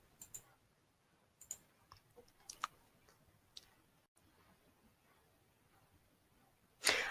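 Computer mouse clicks during a ransomware removal on a PC, a few sparse, faint, sharp clicks spread over several seconds in a quiet room, with a louder burst of noise at the very end.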